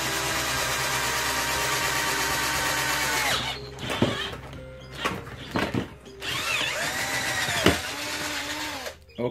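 A power drill bores holes through PVC pipe for a homemade LCD screen separator tool, first a steady close whine for several seconds, then short stop-start bursts of drilling.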